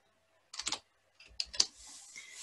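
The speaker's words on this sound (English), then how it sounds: "If I want to type in something with my letters, for instance, I could do" Typing on a computer keyboard while entering letters in craft design software: a few short clusters of crisp key clicks, close and quiet, separated by brief gaps.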